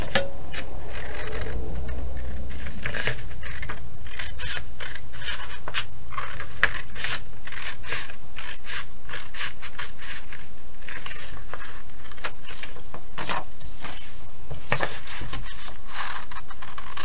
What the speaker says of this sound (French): Et ensuite, vous n'avez plus qu'à couper.